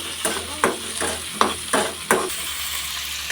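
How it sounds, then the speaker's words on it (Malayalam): Tomato, shallots, garlic and green chili sauté in a pan, with a steady low sizzle broken by about six sharp scraping stirs of a spoon at a fairly regular pace, heard close with no talking. "ഇത് നന്നായി വഴറ്റി കൊടുക്കാം."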